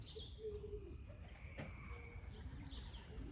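Racing pigeons cooing in an aviary, soft low coos repeated several times against a steady faint background hum, with a few brief higher chirps scattered through.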